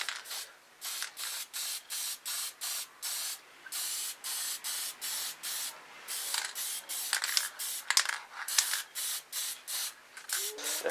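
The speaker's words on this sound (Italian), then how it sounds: "una spruzzatina di colore scuro" Short bursts from a spray paint can laying down a dark colour, a rhythmic series of close, loud hissing sprays separated by brief pauses, with faint clicks between them.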